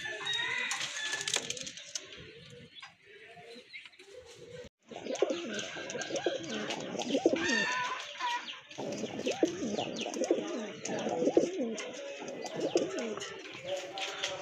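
A pair of white Kagzi pigeons coo repeatedly at close range, soft throaty rolling calls overlapping in a busy loft, with faint clucking fowl in the background.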